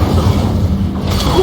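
Incendio fire spell cast in Hogwarts Legacy combat, a heavy low rumble with soft thuds and a faint whoosh, loud and continuous for about a second and a half.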